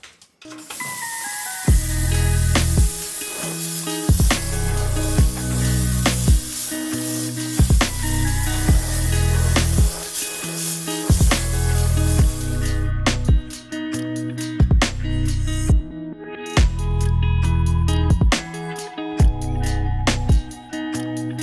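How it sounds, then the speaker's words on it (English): A Harbor Freight spray gun sprays Rust-Oleum bedliner onto a truck bed, hissing in short, regular bursts, each a loud spitting spray with brief pauses between, continuing steadily throughout. "all I know to do is just get the spraying with it, and we'll figure it out as we go"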